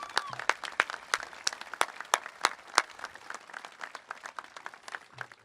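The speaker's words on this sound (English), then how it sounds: "Can I please get a big round of applause for Chip Reid" Audience at a Memorial Day ceremony at Mt Soledad claps in steady, moderately loud applause lasting several seconds, with no talking over it.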